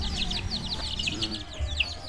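Chickens in a coop, a flock clucking and chirping in quick repeated short calls, close by and moderately quiet over a low background rumble.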